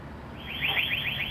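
Security alarm at a computer shop on Riverside Drive, a warbling electronic siren pulsing in repeated rising sweeps, faint and somewhat distant over a low background hum, with no talking.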